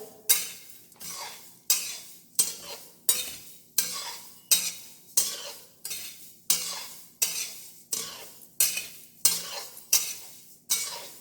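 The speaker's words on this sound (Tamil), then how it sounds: "கெட்டி பாத்திரத்தில் வறுக்கிறேன்." Spices for sambar powder being dry roasted over low heat in a heavy kadai, a regular rhythm of stirring scrapes, about a dozen strokes, close and clear with no talk.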